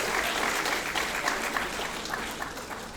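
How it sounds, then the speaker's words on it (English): Audience applause at a 2023 graduation ceremony, a dense, steady wash of many hands clapping throughout, fairly close and even, with no voices standing out. "clap it up for her"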